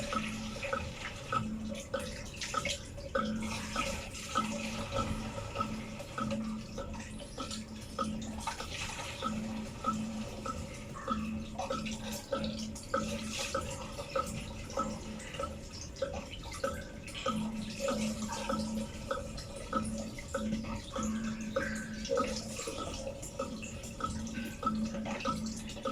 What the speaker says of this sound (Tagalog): Ang dilig to, tubig ito, ang dilig.